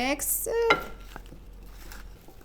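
Broccoli salad with carrots, onions and dates gets mixed in a bowl, with a few bright clinks and scrapes of a utensil against the dish at the start, then soft, quieter stirring.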